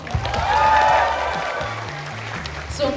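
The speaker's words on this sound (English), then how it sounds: "Let's all give them a warm round of applause." An audience at a university freshers' day event claps for the contestants, a brief burst of applause that swells quickly and then fades, with a voice heard over it.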